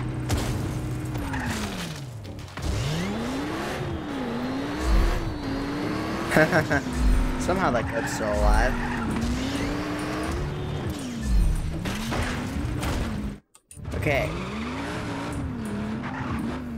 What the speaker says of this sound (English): Fast sports cars actually control pretty well.